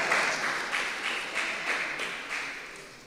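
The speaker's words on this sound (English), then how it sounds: "Give one guy a lusty round of applause." Lusty round of applause from an audience at a community conversation in Les Coteaux Community Centre, Tobago, steady moderate clapping with no talk, easing slightly toward the end.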